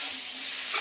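Broccoli is stirred and fried in a pan, giving a brief, soft sizzle with light scraping from the stirring.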